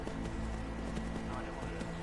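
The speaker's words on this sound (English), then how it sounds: "The horse is running around here." A horse runs with rapid, rhythmic clip-clopping hooves in Skyrim Remastered, steady and continuous beneath someone talking over the game.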